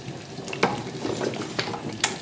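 Cameroonian peanut sauce with okra simmers in a pot, a quiet bubbling and soft sizzle with a few sharper pops and gentle stirring sounds.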